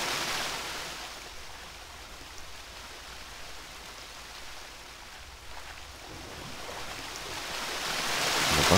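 A waterfall in a video game roars as a steady, broad rushing wash of water, constant and fairly loud, swelling slightly toward the end.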